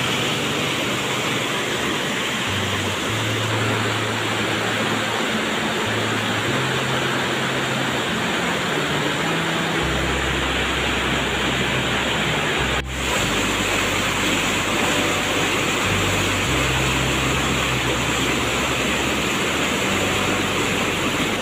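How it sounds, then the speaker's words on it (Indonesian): Swift water of the Opak River rushes through a narrow stretch at the Lava Bantal pillow-lava geosite in Berbah, Sleman, making a steady, dense roar with low rumble that continues throughout and has no talk over it. "Airnya lumayan deras, air Sungai Opak."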